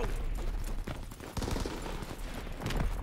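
Gunfire in Call of Duty WW2 during an Ardennes Forest multiplayer match, dense overlapping rifle and machine-gun shots cracking in rapid bursts, close and loud throughout.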